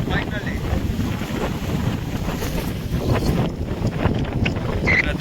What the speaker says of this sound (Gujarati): ફૂલ પવન પણ ચાલુ થઈ ગયો છે